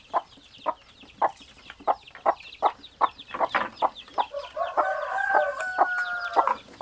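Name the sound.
chicks clucking, noisy, wanting food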